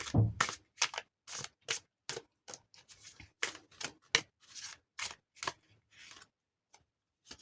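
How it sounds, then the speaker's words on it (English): Tarot cards being shuffled, about a dozen short papery riffles and flicks in an irregular rhythm, quiet and close with pauses between bursts. "I'm going to shuffle 3 times"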